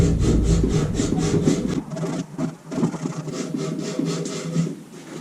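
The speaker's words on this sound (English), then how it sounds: "we will use that for fine tuning our sanding around here" Steady rhythmic rasping of a worn sanding belt rubbed back and forth by hand on wood of a chair, close and continuous, with a brief pause partway through.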